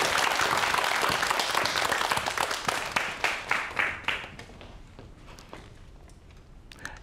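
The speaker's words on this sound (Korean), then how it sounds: "큰 박수로 강연 시작해볼게요" A lecture audience applauds to open a talk on robots taking jobs: dense clapping at first, thinning into scattered individual claps and a few footsteps as it fades out.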